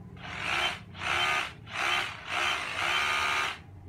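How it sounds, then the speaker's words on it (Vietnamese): A Dewalt cordless rotary hammer runs in chisel mode, giving four close, loud bursts of rapid mechanical hammering with brief pauses between them, and no voices. "Chức năng đục thì nó rất là êm"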